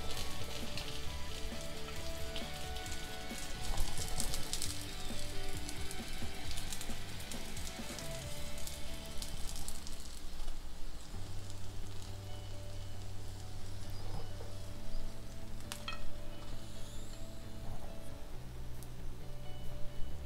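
Chicken seekh kebabs sizzle and fry steadily in a pan, a constant crackling hiss with occasional louder spits, heard close and alone without talk.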